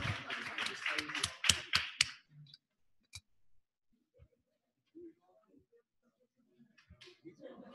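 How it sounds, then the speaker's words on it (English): An audience applauds for volunteers at a lecture, a burst of clapping for about two seconds that quickly fades, followed by near silence with a few faint clicks and murmurs. "Applause."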